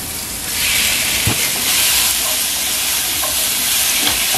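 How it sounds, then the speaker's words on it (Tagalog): Chicken sautés with onion in a hot pan, a loud, steady sizzle close up, with a few soft stirring knocks of a utensil against the pan and no talking. "So, igisa natin ng mabuti itong chicken."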